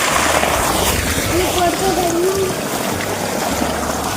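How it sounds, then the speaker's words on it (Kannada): Irrigation water trickles and flows steadily into a paddy field in the Malnad countryside, a continuous close watery rush with a faint breeze, alone for the whole stretch. "ನೀರಿನ ಸೌಂಡ್ ಎಷ್ಟು ಚೆನ್ನಾಗಿ ಕೇಳಿಸ್ತಿದೆ ಅಲ್ವಾ ನೀರು ಬಿಟ್ಟಿದ್ದಾರೆ"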